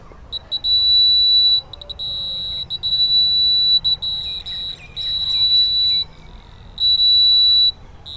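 Smart glasses for the blind sound an obstacle alarm: a shrill, electronic beep in repeated bursts, some long and some rapid and stuttering, close and clear over a quiet room.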